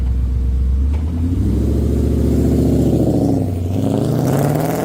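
A custom car launches hard from a stop, its engine climbing from a deep rumble into a loud roaring rev, dipping briefly at a gear change before pulling again, heard up close with no voices.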